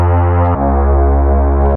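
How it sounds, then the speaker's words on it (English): Sampled synth pad played across a keyboard at different pitches, a loud, dense sustained tone that jumps to a new note about halfway through, holds, then stops abruptly, with no voices. "when you pitch it around the keyboard like this"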